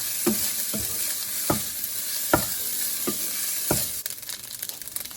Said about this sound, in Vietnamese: Mình cũng vẫn trộn đều cho nó tơi ra.